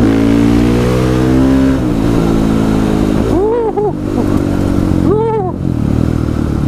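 A KTM 500 EXC supermoto motorcycle engine revs loudly and close while riding, with a steady drone and two sharp rising-and-falling throttle blips.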